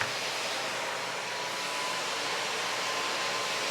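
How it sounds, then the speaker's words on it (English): A Miele Compact C1 vacuum cleaner on its maximum setting gives a loud, steady, even roar that holds without a break, with no voices. "Maximum setting on the Miele Compact C1."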